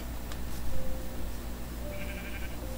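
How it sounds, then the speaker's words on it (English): A sheep in the Minecraft video game bleats in short, moderately loud calls over a faint background hum, with no talking. "There's a sheep on my island."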